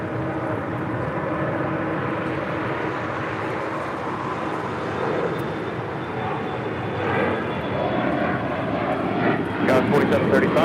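A Boeing 787-10 Dreamliner jet at LAX roars steadily, a loud broad engine rumble that swells near the end, with a voice talking over it.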